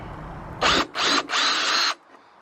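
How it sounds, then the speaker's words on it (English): A power drill fitted with a countersink bit cleans burrs from drilled metal on a Nissan NV200 camper van, whirring in three short close bursts, the last one longest, before stopping. "I'm going to go in here with a countersink bit and clean them all up."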